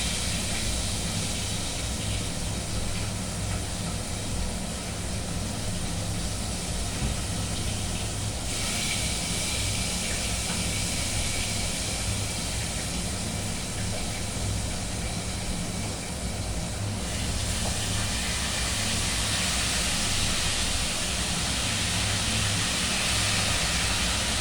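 Fish pieces frying in hot oil in a pan, a steady loud broadband sizzle that carries on for the whole span and brightens in places, with no talking over it.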